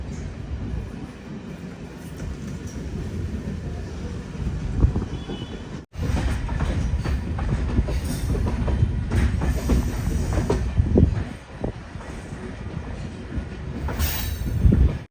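A train rumbles loudly past at the outer tracks of Ayodhya Cantonment Railway Station, with rattling wagons and wheel clatter and a brief squeal, the noise dropping out for a moment midway.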